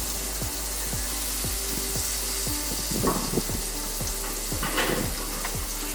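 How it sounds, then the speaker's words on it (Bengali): Thinly cut chicken pieces frying in a pan, a steady moderate sizzle with small crackling pops and a few soft stirring or turning sounds, no voices. "এভাবে উল্টে পাল্টে আমি প্রায় 7 থেকে 8 মিনিটের মতো এই চিকেনগুলো ভেজে নিই।"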